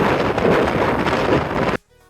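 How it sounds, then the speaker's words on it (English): Strong wind on Governor's Island buffets the microphone in a loud, continuous rumbling roar that cuts off abruptly near the end. "It's super windy around here."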